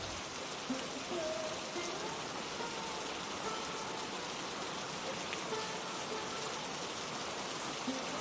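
Steady rain falls, a dense continuous hiss of drops on a surface lasting throughout, even and moderately loud with no voices.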